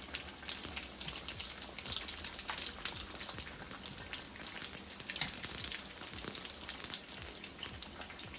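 Salmon egg rolls fry in a pan of hot oil with a steady, dense crackle and spitting that runs unbroken and fairly close for the whole stretch.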